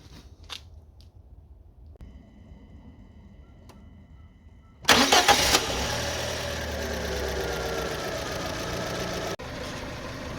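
Quiet workshop ticks, then a Fiat Panda II 4x4 1.2 LPG car engine cranks and catches with a loud burst, settling into a steady rumbling idle that continues to the end.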